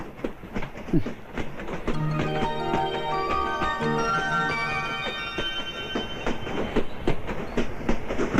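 A train running along rail tracks, a steady rolling clatter with rhythmic clickety-clack of wheels and drawn-out tonal squeals over the middle stretch, loud and continuous throughout.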